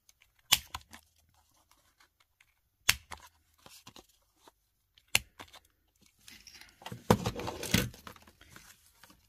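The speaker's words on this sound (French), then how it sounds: "on va arrondir les coins aussi de la petite carte qu'on vient de faire" A small watercolour paper card has its corners rounded off, with several sharp isolated snips and clicks followed by a denser cluster of crisp paper crunching and rustling, close and fairly quiet.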